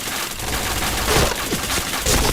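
Rapid gunfire from the video game Nobunaga Katana, dense overlapping shots crackling loudly and continuously with no pause.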